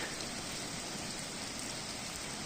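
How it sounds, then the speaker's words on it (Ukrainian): Light rain falls steadily in a Carpathian mountain forest, a soft, even hiss of drops on leaves and ground that continues without a break, with no voices. "трошки дощик сьогодні"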